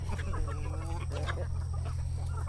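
Country chickens clucking nearby on a poultry farm in a short burst of soft, repeated calls over a steady low background hum.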